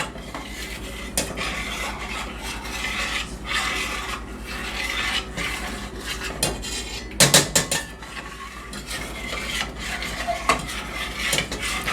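Chocolate pudding is stirred in a pan with a spoon, a steady scraping and rubbing against the bottom that repeats through the clip, with a short burst of louder clatter partway along and no talking.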